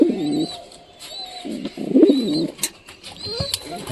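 Pigeons kept at home coo in short, low rolling phrases, a few bursts close by, with faint chirps and light rustling around them and no talk.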